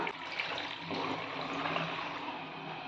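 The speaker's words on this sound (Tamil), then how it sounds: "ரெண்டு சொம்பு தண்ணி ஊற்றிக்கலாம்" Water pours steadily into a pressure cooker holding washed fresh turmeric roots, a continuous close rushing splash for a few seconds with no talk.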